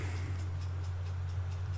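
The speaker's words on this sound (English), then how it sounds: "That timer is way too loud." A timer in the PS1 game 3D Lemmings ticks loudly and steadily, a regular fast clicking beat running alone over a low constant hum.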